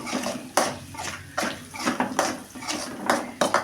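Noodles with black pepper are tossed and mixed in a pan, giving repeated wet clattering scrapes and knocks of a utensil against metal in an uneven rhythm, close up with no talking.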